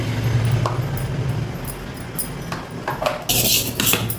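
A spoon stirring fermented ragi idli batter in a vessel: soft, thick mixing with a few brief clinks of metal against the pot and a brighter scrape near the end, close by and without speech.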